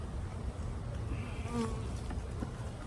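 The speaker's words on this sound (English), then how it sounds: "The bees are buzzing, they're loud" Honeybees from a newly installed package buzz steadily nearby, a continuous humming drone with slight wavering pitches.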